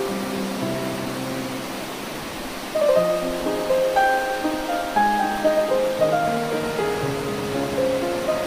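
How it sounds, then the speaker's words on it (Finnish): Steady broadband roar of the Rovijoki river rapids and waterfall in Norway rushes throughout, with tonal music layered over the water from about a third of the way in. "Vanhan sillan alta vesi sukeltaa entistä syvemmälle ja kosken kohina voimistuu"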